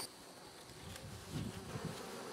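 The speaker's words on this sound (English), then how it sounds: "there are bees between every single frame" Honeybees humming inside an opened hive box, a steady close buzzing drone filling the clip with slight swells, no voices over it.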